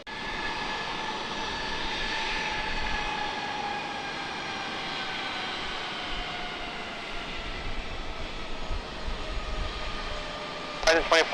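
Airbus A321 jet taking off at San Diego Airport, a loud steady engine roar with a high whine slowly falling in pitch, heard from nearby with radio chatter in the background.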